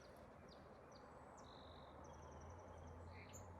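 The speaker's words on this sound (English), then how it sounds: "Here's a lot of blackbirds." Several blackbirds sing in spring, their faint, scattered chirps and whistled phrases coming from a distance over steady outdoor background noise.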